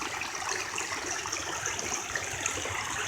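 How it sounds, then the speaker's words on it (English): Flood water rushes over a small waterfall in a little river, a dense, continuous roar heard close up and steady throughout. "There's the little waterfall down there"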